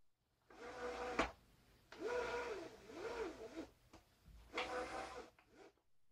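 Thrustmaster TX race wheelbase connected to an Arduino powering up, a series of whirring motor bursts with rising and falling tones separated by short pauses, close and fairly quiet.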